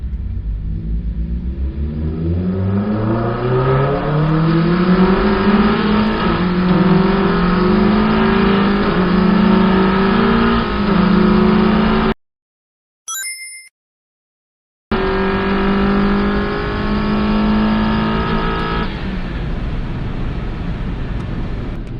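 A Mazda Miata running on nitrous accelerates hard, its loud engine note climbing through gears in rising sweeps with brief dips at the shifts. A short silent gap falls in the middle, then the loud engine pull resumes.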